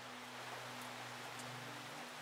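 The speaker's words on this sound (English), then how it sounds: "Why can I hear the rain like there's a window?" Steady, faint rain hiss in the horror video game The Horrors: The Lost Tape, an even wash of drizzle running without a break alongside a low constant indoor hum, no voices present.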